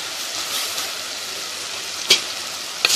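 Rice in a pot just after broth is poured in, a steady hiss of simmering and sizzling with two brief sharp clinks of a utensil against the pot near the end.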